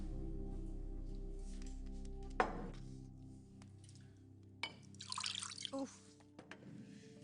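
A drink is poured into a glass in a TV drama scene, a short, faint trickle and splash of liquid late in the moment, after a sharp click and over a low room hum.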